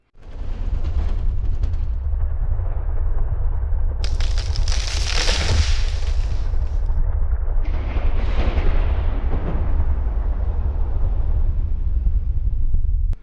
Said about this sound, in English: At that same time, there was a great earthquake.